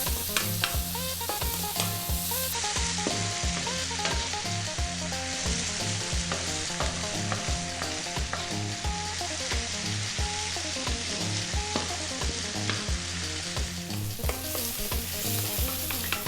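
Cabbage fried rice sizzles loudly in a pan over high heat, a dense continuous hiss with constant tossing and scraping throughout, close up and without talk.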